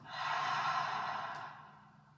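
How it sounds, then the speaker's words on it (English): A deep breath drawn in through the nose and released audibly through the mouth to close a gentle prenatal and postnatal yoga session, heard as one long, soft, breathy sigh that swells and fades with no talking. "inhaling deeply through the nose, and an audible exhale through the mouth"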